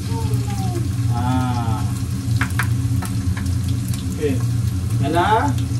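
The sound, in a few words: garlic and ginger sautéing in a pan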